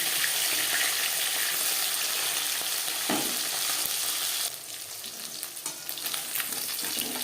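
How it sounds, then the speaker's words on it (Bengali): Fish sizzling and spitting in hot oil in a kadai, cooking for a vegetable-and-bata-fish curry, a steady loud crackle near at hand that briefly thins and then flares again with sharper pops. "একটা সাইড ভাজা হয়ে গেলে অপর সাইডটা উল্টে দেবে"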